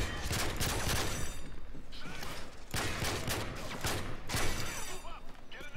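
Gunfire in Modern Warfare 3 Spec Ops, several loud, sharp shots spaced about a second apart with mechanical clatter between them and a voice talking faintly underneath.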